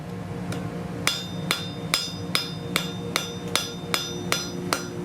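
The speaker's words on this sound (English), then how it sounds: "So I'm going to draw that piece out just a bit more at the anvil here, that outer edge, get it looking nice." Hammer blows on hot iron at an anvil while drawing out the edge of a scroll, eleven sharp ringing metallic strikes in an even, steady rhythm, close and clear over a low hum.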